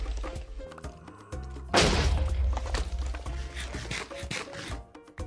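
Minecraft TNT blasts during blast mining: a sudden loud boom partway through that rolls into a long rumbling tail over game sounds.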